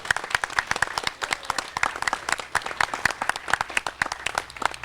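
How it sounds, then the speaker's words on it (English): A crowd at a library reading garden ribbon cutting breaks into a round of applause, many hands clapping in a dense, lively patter that stays steady throughout. "round of applause"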